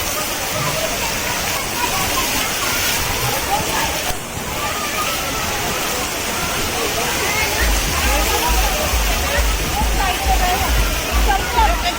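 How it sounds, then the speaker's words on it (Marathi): Water pours down from above at the Imagica water park, a steady, loud, rushing roar that fills the whole stretch, with people's voices faintly buried beneath it. "वरून पाणी येते"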